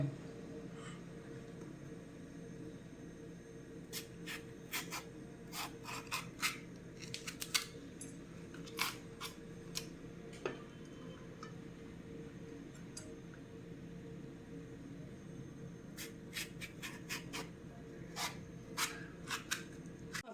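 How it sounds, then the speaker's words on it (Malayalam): Green chillies are cut in half for bajji, heard as clusters of crisp, close snipping clicks at irregular intervals over a faint, steady kitchen background, with no talking. "ആദ്യം നമുക്ക് ഈ മുളകൊന്ന് കട്ട് ചെയ്ത് വെക്കാം"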